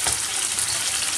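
Chicken pieces frying for a homemade chilindrón sizzle loudly and steadily in the pan as wine is poured in, a dense continuous hiss with no talking.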